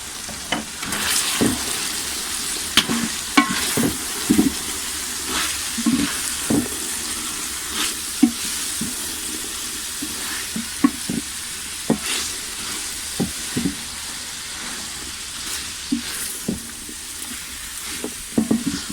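Finely chopped cabbage sizzles and crackles in a hot pan while being stir-fried for restaurant-style chicken fried rice, a steady close frying hiss broken by scattered sharp pops and stirring scrapes throughout.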